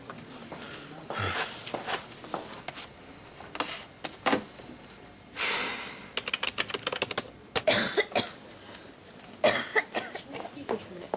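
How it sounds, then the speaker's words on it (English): A hospital patient coughs in short, sharp fits scattered among clattering keyboard typing and footsteps on a busy ward, with people talking nearby. "When did your coughing start?"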